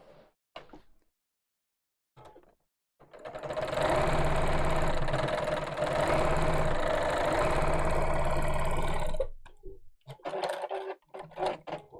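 A sewing machine stitches along the edge of fabric in a steady, loud mechanical run lasting several seconds, framed by brief quiet handling noises before and after.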